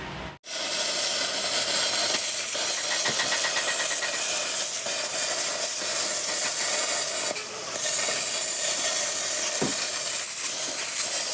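Engine with a reduction gearbox running steadily at a worksite, a continuous loud hissing, rumbling drone that holds level for about eleven seconds after a brief dropout at the start.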